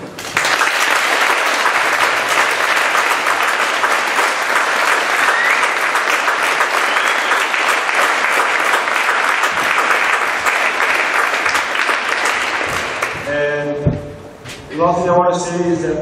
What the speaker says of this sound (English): I think they deserve a very big round of applause of all the people that are here